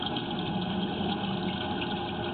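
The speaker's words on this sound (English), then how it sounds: "The water is flowing really well." Water flowing steadily through a pipe or drain, heard as a continuous close rushing hum with no breaks or voices.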